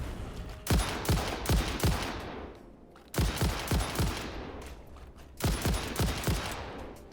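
Gunfire in the video game Satisfactory comes in three separate bursts of rapid, punchy shots, each a cluster of loud cracks with short decaying tails, divided by brief pauses.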